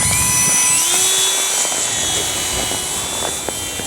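E-Flite AS3Xtra RC airplane electric motor in flight on a windy day, a loud high-pitched whine that rises in pitch early, then holds steady while passing nearby.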